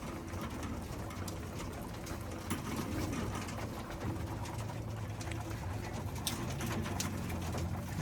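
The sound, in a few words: birds cooing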